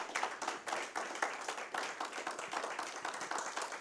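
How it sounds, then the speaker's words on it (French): A church congregation claps together, a dense, sustained patter of many hands ringing through a hall without a break. "donne une bonne offrande d'acclamation à Dieu"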